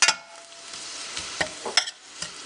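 Small chili pieces frying quickly in a pan for tortilla soup, a steady close sizzle broken by a few sharp stirring scrapes and taps.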